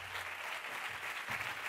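Audience applause at a closing gala of a short film festival, a dense steady wash of clapping from a crowded hall, moderately distant, with a faint voice underneath.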